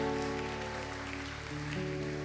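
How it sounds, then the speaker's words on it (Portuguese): Applause from a church congregation, a steady wash of clapping under a sustained organ or keyboard chord. "Pode aplaudir, pode aplaudir."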